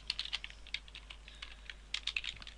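Code is typed on a computer keyboard in quick, close, light clicking keystrokes that come in short uneven bursts over a low steady hum.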